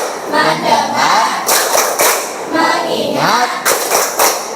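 A classroom group stands and claps in rhythm to the tepuk fokus chant, with several sharp claps in a row between stretches of chanted voices.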